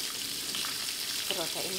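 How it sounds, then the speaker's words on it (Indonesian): Tofu frying in hot oil makes a steady, bright sizzling hiss throughout, with a person's voice briefly coming in near the end. "Yang pertama aku goreng tahu ini"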